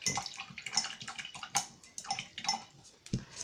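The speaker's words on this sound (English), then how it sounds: "And then rinse that back out." Paintbrush being swished and rinsed in a small container of water, with close, repeated sloshing splashes and light taps in an uneven rhythm, no talking.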